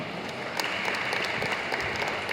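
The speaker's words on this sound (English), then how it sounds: "give a big round of clap to him" Steady applause from a seminar audience clapping for a participant, a dense, continuous patter of many hands held at an even level for a couple of seconds.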